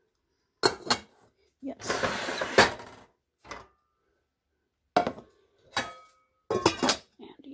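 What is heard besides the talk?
Gotham Steel cookware lids and pots being handled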